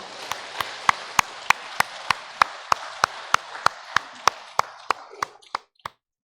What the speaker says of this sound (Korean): 우리 격려와 또 환영의 박수로 맞이하도록 하겠습니다